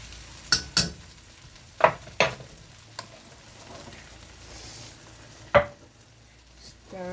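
Plant-based dinner ingredients stirred in a hot pan, a steady soft sizzle of frying under several sharp scraping clacks of the utensil against the pan, spaced irregularly and close by.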